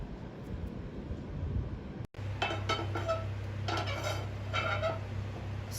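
Cheese garlic bread set down on a pan, with a few soft metallic clinks and scrapes over a low steady kitchen hum.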